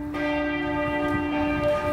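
Church bells ring steadily near a hotel in a European town, a sustained resonant tone with bright overtones continuing throughout, with no voices over it.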